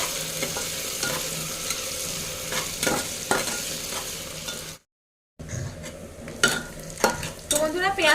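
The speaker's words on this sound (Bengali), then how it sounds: "তো পেঁয়াজটাকে একটু লাল করে ভেজে নেব।" Finely chopped small onions fry in a pan while being browned for a goat head curry: a continuous sizzle broken by sharp scraping stirs, with a brief silent gap midway before the stirring and sizzling resume.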